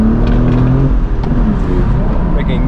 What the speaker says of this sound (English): Making nice V12 sounds.